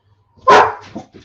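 Dogs bark once, loudly and close by, and a few softer yips and whimpers follow, with no talk.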